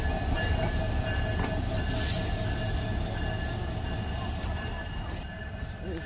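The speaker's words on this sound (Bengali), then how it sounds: "শুধুমাত্র একটি বগি নিয়ে সামনের দিকে অগ্রসর হচ্ছে এই ট্রেনটি" The Kurigram Express locomotive, hauling a single coach, passes close by with a loud, steady rumble of engine and wheels on rails that fades slightly toward the end.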